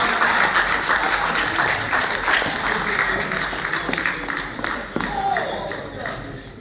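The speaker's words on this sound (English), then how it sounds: "a big thank you and a round of applause for Philip and Charlie" Audience applause at the annual Woking Grange reunion, a dense wash of clapping from a crowd that holds steady for several seconds, with some murmuring voices mixed in.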